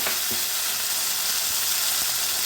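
Tomatoes fry in a pan for spicy chutney with a constant close sizzle, while a spoon stirs and scrapes in a few soft periodic knocks.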